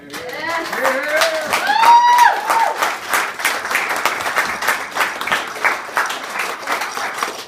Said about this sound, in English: Let's give another round of applause to two great toasts.